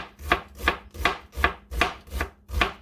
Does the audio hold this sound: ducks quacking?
no